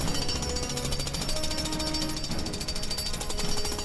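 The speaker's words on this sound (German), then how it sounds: "Aber wir bohren lieber." Drilling into rock or ground in the Lego Batman 3: Beyond Gotham video game, a loud, steady, rapid jackhammer-like rattle that runs without a break.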